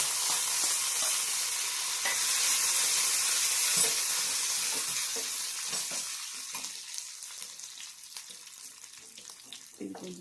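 Tempering for ridge gourd chutney sizzles and crackles in a pan, a loud steady hiss that gradually fades toward the end with scattered pops and small clinks.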